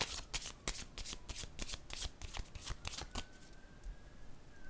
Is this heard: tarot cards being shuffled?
yes